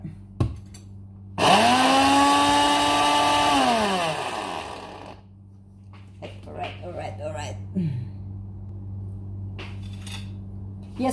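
An electric blender briefly whirs as it mixes masala for Emirati fried fish, a loud rising and falling motor whine that cuts off after a few seconds, followed by kitchen clatter and someone speaking.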